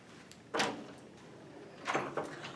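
Gas station doors being pushed open while someone walks out: two soft swishing door movements about a second apart, close and moderately quiet, followed by a faint click.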